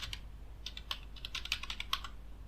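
Fingers type a password on a computer keyboard during a Kali Linux install, with quiet, irregular key clicks in small bursts and no one speaking.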